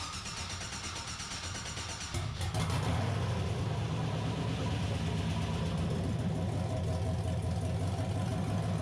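A big-cam LS V8 with a 6-speed, swapped from a GTO, cranks and fires up, then settles into a loud, choppy lumpy idle that runs on steadily, close by.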